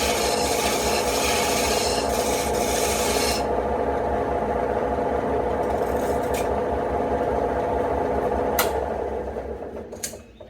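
A power router cuts a groove about 3/8 inch deep into wood for a kaleidoscope, giving a loud, continuous grinding rasp that stays steady for several seconds and then winds down near the end.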